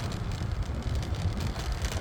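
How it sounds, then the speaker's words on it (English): Steady, heavy wind buffeting the microphone while cycling, a constant low roar with gusty fluctuations throughout and no voices. "Don't even know if you can hear me on this one because it is very windy."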